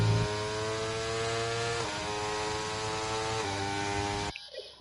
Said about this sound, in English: So you probably heard gear over revving.